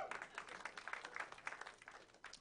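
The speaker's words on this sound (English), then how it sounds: "Clap if you're here tonight." Faint, scattered applause from a comedy club audience in Baltimore, a crowd clapping at a distance with no words spoken over it.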